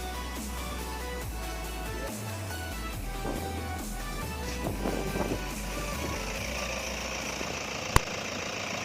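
A 2017 Toyota Commuter van's 3.0 diesel engine idles with a steady low rumble close by, with a faint rhythmic knock and a brief sharp click near the end.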